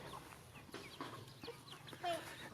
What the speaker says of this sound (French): Que ce soit les poulets